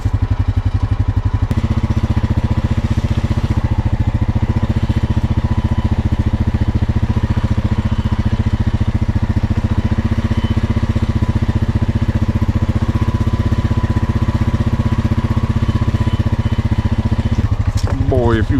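A four-wheeler ATV engine, a Tracker model with power steering, runs steadily and loud at close range for the whole stretch, a constant throbbing mid-pitched drone with a brief rise near the end.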